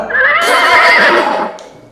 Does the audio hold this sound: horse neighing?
yes